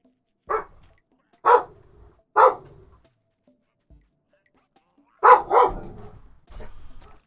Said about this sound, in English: Oh, my dog hears a ruckus.